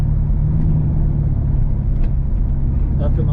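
A 1981 Chevrolet C10 pickup with an X-pipe exhaust runs close by with a loud, steady engine rumble, its exhaust tone droning throughout while a brief voice comes in near the end.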